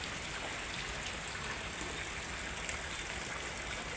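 A steady, even hiss of light rain falls continuously, with no voices and no breaks in the sound.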